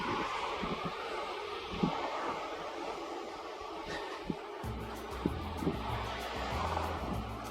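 Wind blows outdoors on a breezy morning walk, a steady rushing roar with occasional buffeting thumps against the microphone, continuous and fairly loud.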